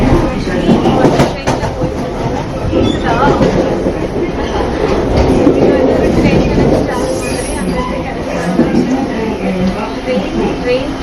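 A Paris metro or tram train passing nearby fills the space with a dense, steady rumble and rattle, while people chat over it throughout.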